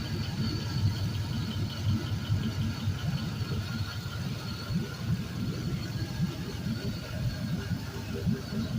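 A cleaned 5.3L LM7 V8 idles smoothly on a test run, a steady close low rumble with even pulsing and no revving throughout.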